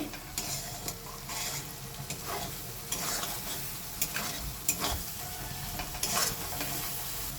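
Spiced masala sizzling in hot oil in a wok while a spatula repeatedly scrapes and turns it, irregular stirring strokes over a steady close frying hiss, without any talking, for a chicken skin dish.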